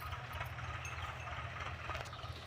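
A tractor engine labours under a heavy sugarcane trolley load, giving a low, steady, vibrating rumble with a slight rattle that is constant and close throughout.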